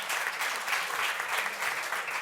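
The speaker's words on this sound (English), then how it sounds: "just a round of applause for our panelists" An audience at a panel discussion on access to innovation claps for the panelists, an even, continuous wash of applause filling the room.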